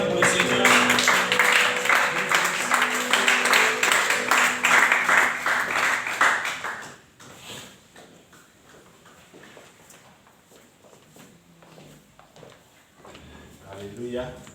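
A church congregation at an Easter service applauding for the Lord, loud dense clapping for about seven seconds that then drops away to quieter room sounds and scattered voices.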